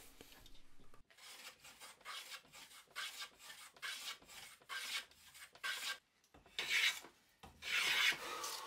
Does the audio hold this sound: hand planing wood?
yes